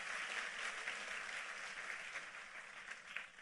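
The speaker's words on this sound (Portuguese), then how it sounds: "Aplauda Ele" A church congregation applauds during a sermon, a fairly faint but continuous patter of many hands clapping together, steady throughout with little variation.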